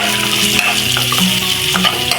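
Chopped onions sizzle loudly in a hot pan while a spoon steadily stirs them, giving a continuous close frying hiss broken by scraping strokes, with no voices.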